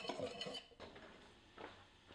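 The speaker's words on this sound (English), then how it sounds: "Whisk." A whisk stirs flour, salt, nutmeg and baking powder in a bowl, giving faint, quick, rhythmic clinks and scrapes against the bowl close by.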